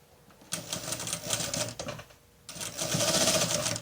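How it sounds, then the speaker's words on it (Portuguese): A sewing machine sews a straight seam through patchwork scrap fabric for a triangular toiletry bag, whirring in two close, loud runs split by a brief stop. "fazer uma costura reta aqui, seguindo o desenho da caixinha de leite"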